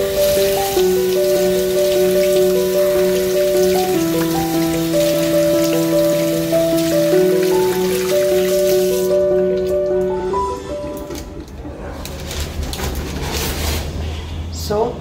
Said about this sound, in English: make sure to wash your hand with soap and water